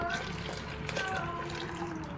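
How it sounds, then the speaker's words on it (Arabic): Water is poured into a blender as a continuous, close splashing rush, with a voice partly audible beneath it. "ونحط قد الحليب ميه"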